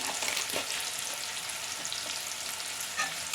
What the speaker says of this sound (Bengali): নুনটা দিয়ে পেঁয়াজটাকে আমি ভাজবো যাতে তাড়াতাড়ি আমার পেঁয়াজটা নরম হয়ে যায়